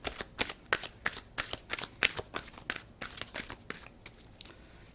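Tarot cards are shuffled up close, making a rapid series of crisp riffling slaps and flicks in quick, irregular succession, with no talking.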